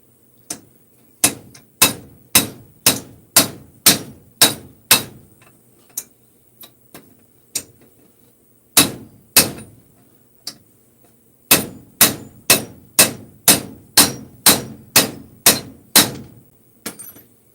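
A hammer strikes metal to straighten it in a work shop, sharp ringing blows in fast regular runs with brief pauses between bursts, loud and close with no talk.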